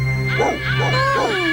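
A cartoon dog sound effect gives about three quick, yelping barks close up over a steady low background hum, from a Croatian-dubbed Harveytoons cartoon.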